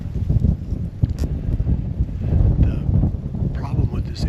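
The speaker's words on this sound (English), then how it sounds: "with that wind, is probably going to be really hard on this audio" Strong wind buffets a microphone outdoors beside a low tree stand during a whitetail bowhunt, a steady heavy low rumble with gusts rising and falling, close and loud throughout.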